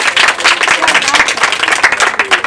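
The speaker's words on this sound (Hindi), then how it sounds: "ताली बजा दो थोड़ा इसके लिए" A class of students claps for a class 10 topper, a dense, steady patter of many hands filling the room from start to finish, with no voices over it.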